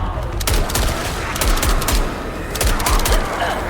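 Rapid automatic gunfire in John Carpenter's Toxic Commando, loud dense bursts of shots that continue nearly without pause, with brief game voice lines mixed in.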